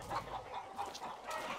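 A rooster in the video game Far Cry 6 clucks in a few short, soft bursts against quiet background ambience, without speech.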